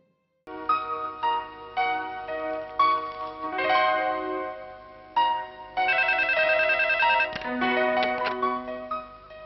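A telephone rings in a Hindi-dubbed South Indian movie crime scene, a bright electronic ringtone melody repeating in short phrases that grow fuller, loud and close, with no talk over it.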